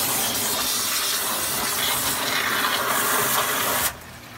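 A tap runs water into an aquaponics system, a steady loud hiss and splash that cuts off abruptly near the end as the flow stops.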